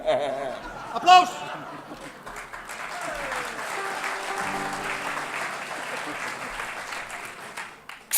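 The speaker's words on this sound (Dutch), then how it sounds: "Applaus!" An audience at a live Dutch music show breaks into sustained applause, a dense wash of clapping that swells and holds under scattered chatter and a brief voice at the start.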